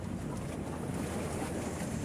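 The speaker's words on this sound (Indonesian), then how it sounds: "suara deburan ombak" Waves roll in at Marina beach in Semarang with a steady, dense rush of surf and wind buffeting close to the microphone, continuous and unbroken with no voices.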